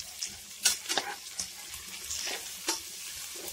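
Onions, green chillies and curry leaves sauté in hot oil for a vegetable biryani, a continuous crackling sizzle broken by several sharp spatula scrapes and stirs close by, with no voices.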